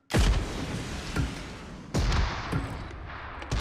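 Grenade blast in the battle-royale game PUBG Mobile: a heavy booming burst opens the clip, followed by further loud rumbling bangs with sustained low-end roar and no talk.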